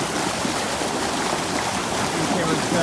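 Rushing water at Spoon Creek Falls in Washington State, a loud, steady broadband roar that fills the whole clip with no pauses.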